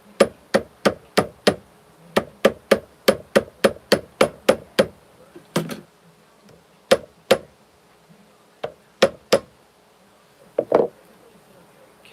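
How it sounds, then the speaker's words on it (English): A hammer strikes a metal peapod pendant on an anvil with sharp ringing blows, first in a fast, steady run of a dozen or so, then scattered single hits and pairs with pauses between, close and loud. "whenever you hit, imagine a straight line going down into the anvil"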